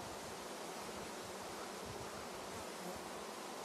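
An autumn honeybee swarm in September gives a dense, steady buzzing hum, a continuous droning mass of wings heard close and unbroken throughout.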